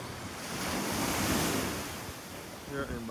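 Ocean waves washing onto Folkestone Beach in Barbados, a steady loud broadband surf roar with wind buffeting the microphone throughout, swelling slightly midway.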